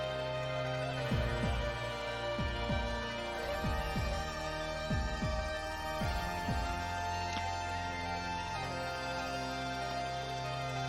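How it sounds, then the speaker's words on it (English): A heartbeat-style bass drum effect pulses in paired low thumps, repeating at a slow, regular pace over a sustained humming tonal backdrop, with the beats fading out toward the end. "Maybe we could do like a heartbeat style bass drum."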